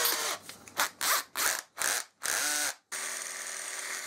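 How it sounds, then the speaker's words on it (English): A belt sander rounds over the end of a small oak strip in a series of short, grinding bursts. It then settles into one steady, continuous run. "Then I rounded over the end on the belt sander so that it would fit inside my drill chuck."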